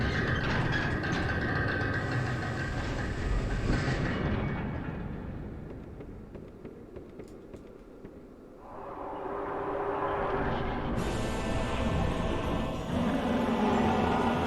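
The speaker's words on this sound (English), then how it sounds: "Yeah, I hear a cranking." Heavy mechanical cranking of a door mechanism opening in Dark Souls II: Scholar of the First Sin, a loud rumbling grind that fades midway, then swells back with bright grating noise, no talk over it.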